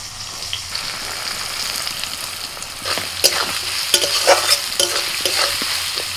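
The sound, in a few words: chopped onion frying in oil with whole spices, stirred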